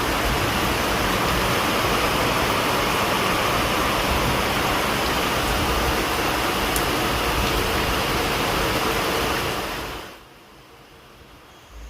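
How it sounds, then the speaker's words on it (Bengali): Rainwater rushes down a flooded road like a small stream after heavy rain, a loud, continuous, broad roar that holds steady for most of the time before cutting off sharply near the end. "পুরো একদম ঝর্ণা নামছে"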